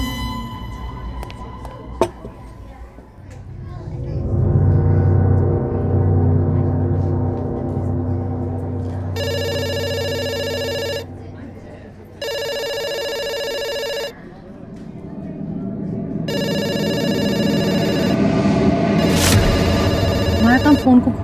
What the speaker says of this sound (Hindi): फोन को घूरना नहीं, फोन उठा के ऑर्डर लेना।